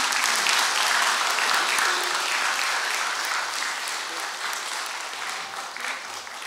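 A Korean Presbyterian church congregation at Sunday worship applauds after a blessing, giving loud, sustained clapping from many hands that slowly tapers off.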